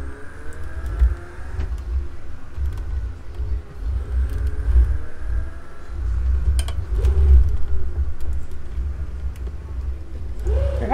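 Race car engines in Project CARS 2 drone and rumble steadily through a lap, with shifting revs and occasional rises in pitch, at moderate loudness.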